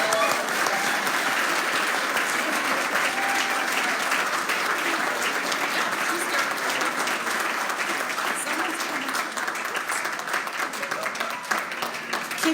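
Award show audience applauds in sustained, dense clapping with some crowd noise, continuing steadily throughout at a strong, even level.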